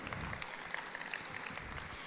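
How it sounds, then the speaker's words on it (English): Audience applause for the chairman at a DVC foundation day ceremony, a faint, steady patter of many hands clapping from a distance for about two seconds. "Applause from the audience for our respected chairman, DVC, Shri Gurdeep Singh."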